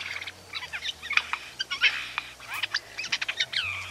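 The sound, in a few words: jay bird call, played recording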